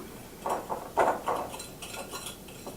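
Salt and sugar stirred into scone dough with a spoon in a bowl: several close, soft scraping strokes and light clinks in an uneven rhythm, without talk.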